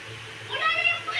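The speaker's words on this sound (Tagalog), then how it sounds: "Pusa." A cat outdoors in strong wind lets out a single close meow that rises in pitch, heard over a low background hum.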